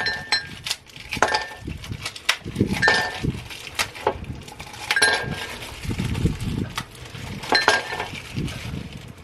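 Ice cubes clinking against a glass while iced dalgona coffee is made, a series of sharp, bright clinks and clatters spread irregularly over several seconds, close and fairly loud, with faint handling noise between.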